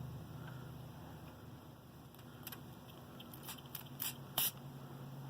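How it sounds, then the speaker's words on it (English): An aerosol can gives short hissing spray bursts onto the paper backing of a self-adhesive postage stamp, several quick puffs near the end over a quiet room background. "Just one quick little spray."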